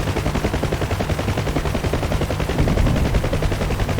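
Helicopter gunfire and rockets in a combat video game, a rapid, steady rattle of automatic fire over a low rotor drone, loud and continuous, with a heavier thump near the end.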